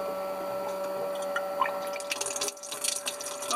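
A cold and hot tap in a Toyota 4x4 camper van runs lukewarm water, a steady pump-like hum giving way to close, uneven splashing and gurgling in the second half, with no voices.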